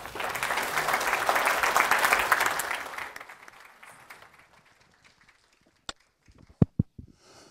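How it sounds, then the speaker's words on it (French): Audience applause at the opening session of a media leaders forum, a dense sustained round of clapping that fades out after about three seconds, followed by a few isolated sharp claps and taps. "encore des applaudissements"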